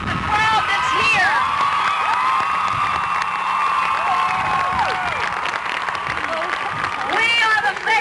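A vast outdoor crowd at the 1992 March for Women's Lives rally cheers, whoops and applauds loudly and continuously, with a high shout or two rising near the end.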